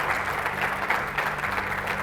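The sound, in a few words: audience applause in honour of Modi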